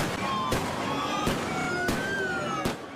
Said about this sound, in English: federal agents hurling flashbangs into the air, trying to scatter protesters